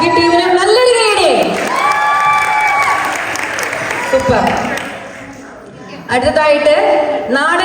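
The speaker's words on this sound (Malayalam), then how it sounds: "ആഷ്നയ്ക്ക് ടീമിന് നല്ലൊരു കൈയടി" An audience at an Onam celebration applauds and cheers a dance team, with loud clapping and shouts under a voice speaking over it; the ovation dips briefly, then swells again near the end.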